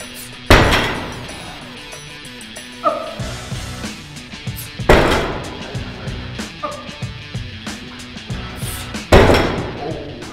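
Heavy barbell weights crash to a gym floor three times, each drop a loud sharp bang followed by rattling clanks as the plates settle, with faint voices between impacts.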